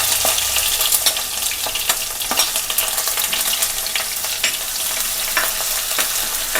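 Garlic hitting hot oil in a pan for a Kerala fish curry, a loud steady sizzle with brisk stirring scrapes and occasional clinks, close and continuous, with no voices.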